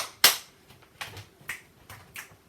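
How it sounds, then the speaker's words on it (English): Sharp hand claps during a mixed-level Pilates mat class: one loud clap, then softer claps in a steady pattern of ones and pairs, spaced about half a second apart, with no talking. "And I will add the clap. 2 claps. 1 clap, 2 claps."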